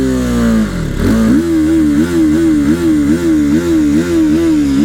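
A TVS Apache RTR 310 motorcycle's exhaust, loud and close, dips then settles into a throbbing idle with rhythmic blips of revving.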